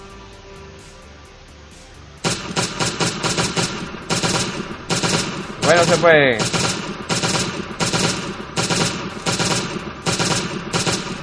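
Rapid bursts of automatic gunfire from the survival video game Last Day On Earth: Survival, loud repeated volleys with short gaps, plus a whooshing effect partway through, all under someone talking.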